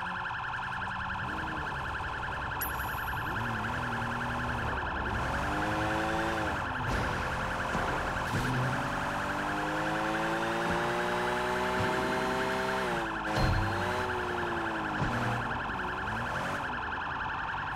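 A police car siren in the video game Sleeping Dogs: Definitive Edition wails continuously with rising and falling tones, loud and close, over a steady engine-like hum throughout.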